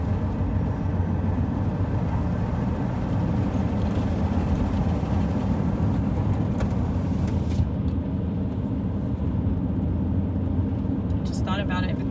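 Steady low road rumble inside a car driving between Summerfield and Ocala, Florida, a continuous broadband drone with tire hiss that stays even throughout, with no talking over it.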